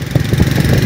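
A motorcycle engine running steadily with a rough, low pulsing throb, loud and close, as if heard from the seat while riding.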